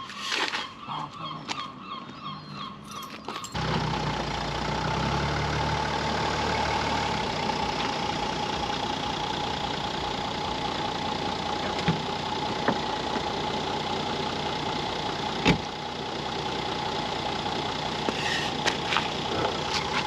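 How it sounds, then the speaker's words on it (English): Mercedes car with an OM642 diesel engine running steadily while reversing, a close, even diesel hum with light knocking and a few faint clicks, no talking. "I'll just reverse the car"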